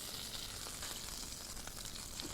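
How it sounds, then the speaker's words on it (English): Lamb chops sizzle and spit steadily in a hot pan, a faint, even frying hiss with small crackles and no voices. "This is the only frying bit we do"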